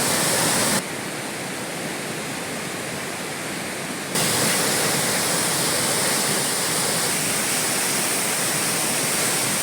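Courtallam main waterfall in sudden flood, a loud, steady broadband roar of heavily pouring water with no voices, briefly shifting in tone partway through before continuing unbroken.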